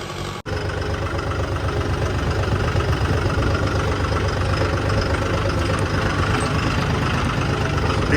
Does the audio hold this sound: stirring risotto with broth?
no